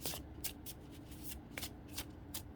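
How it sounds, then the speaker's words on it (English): Close, crisp riffling of an angel numbers card deck being shuffled, in quick repeated bursts of papery flutter. "I want to shuffle it a couple times before I pick one out."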